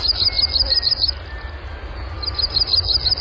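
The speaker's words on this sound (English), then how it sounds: "The black Burnian warbler, Setophaga fusca, Phoebe Snetzinger's sparkbird, and today's Talkin' Birds featured feathered friend" A Blackburnian warbler (Setophaga fusca) sings very high, thin, rapid repeated notes in two bursts, clear over a low background rumble.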